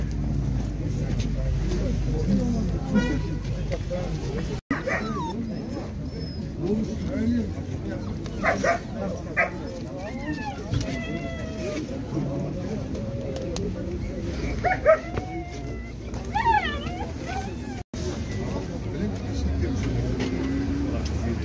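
Puppies yip and bark in short, scattered bursts at an outdoor dog market in Shymkent, moderately close, beneath near-constant conversation between sellers and buyers with a low rumble of traffic behind.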